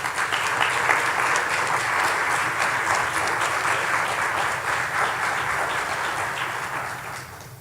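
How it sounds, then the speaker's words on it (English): Sustained applause fills a hall as one side of the audience claps for graduating students at a university recognition ceremony, holding a dense, even wash before tapering off near the end. "I want those on my right to really applaud all of you on my left."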